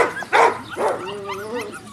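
A six-and-a-half-week-old female puppy gives two sharp close yips followed by a thin, wavering whimper, loud and near with no talk.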